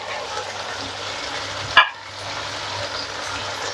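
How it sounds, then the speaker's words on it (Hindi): Rice with capsicum sizzles steadily in a pan, a soft continuous frying hiss with one brief sharp clink of a utensil midway. "इसको थोड़ा सा हम इसमें अच्छी तरह से फ्राई करेंगे इसमें"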